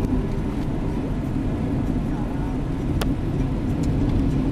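A car drives along a road in Belize between Dangriga and San Ignacio, a steady close rumble of engine and tyre noise heard from inside the vehicle, constant and moderately loud.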